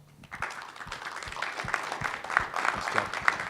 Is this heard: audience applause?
yes